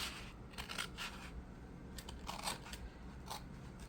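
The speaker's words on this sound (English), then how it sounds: "aim my scissors for that point right there and just cut it" Scissors slice through a paper school folder with a few faint, crisp snips and crunches. The sound is quiet, close and partly buried in steady background hiss.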